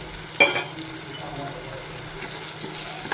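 Goda masala, garam masala, chili powder, turmeric and salt roasting in hot oil, giving a steady low sizzle with a sharp clatter near the start and a few soft scrapes later.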